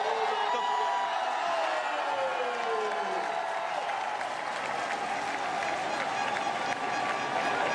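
A roadside crowd applauds a rider during a Tour de France individual time trial at Megève, with dense, continuous clapping and scattered cheers throughout and a passing whine sweeping down early on.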